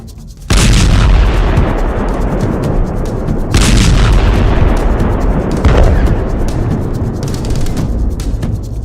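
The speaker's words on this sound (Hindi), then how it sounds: "गाजा की गलियों में अब भी सांस तोप के गोले के एक्शन पर आ रही जा रही है" Artillery fire in Gaza: heavy booming blasts strike at intervals over a continuous dense rumble, several sharp loud impacts standing out against a roaring background with no talk.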